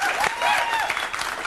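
Studio audience applause greets William Shatner's arrival on a 2006 TV show: dense, steady clapping and a few cheers fill the short stretch at even loudness.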